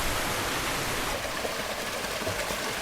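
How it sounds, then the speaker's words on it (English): A mountain stream in the Adirondacks rushes steadily, a constant broad hiss of flowing water, close and even throughout. "Well, I hear a stream down here."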